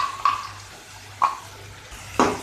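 A spoon stirs ground masala into frying onions and chicken for chilli chicken in a pan, making three distinct scraping strokes about a second apart over a soft background sizzle.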